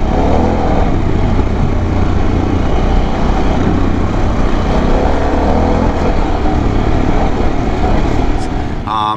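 Harley-Davidson Pan America motorcycle accelerating hard, a loud sustained engine roar with heavy wind noise that cuts off abruptly at the end.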